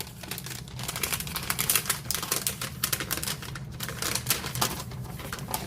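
Protective film is peeled off a new Apple iPad Pro M4, a close, continuous crackling of dense, irregular snaps and clicks that runs for several seconds.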